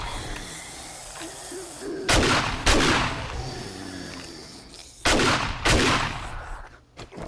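Gunfire in the survival zombie game 7 Days to Die during a horde night: two pairs of loud, booming shots with long decaying tails, separated by a few seconds of quieter ambient game background.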